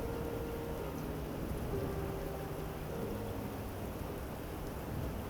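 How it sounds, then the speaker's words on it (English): Steady rain pours with low rumbling thunder in a thunderstorm, an even, moderately quiet wash of sound with no voices. "At first, I thought it was just the storm shifting."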